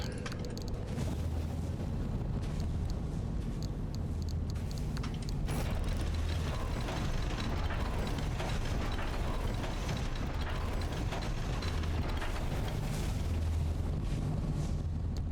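A crafting machine in the game Pacific Drive turns screws into magnets, giving off steady mechanical whirring, clanking and ratcheting with a continuous low rumble that runs for the whole stretch with no talk over it.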